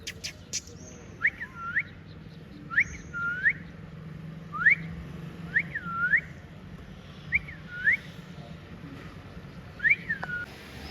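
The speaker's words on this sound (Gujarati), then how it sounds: "સીટી મારો ને, સીટી મારો." A person whistles a short rising tune about seven times in a steady rhythm near a peacock and peahen, with a faint outdoor background.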